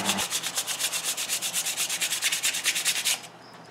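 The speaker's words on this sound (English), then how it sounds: "And then some hand sanding." Hand sanding of a curly maple knife handle on a San Mai blade: quick, regular back-and-forth rasping strokes, about eight per second, close and steady, stopping shortly before the end.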